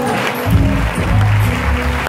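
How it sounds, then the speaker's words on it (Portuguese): Church audience clapping together in a short burst, fairly loud and full, with a low hum and murmur underneath. "vamos aplaudir 2 vezes"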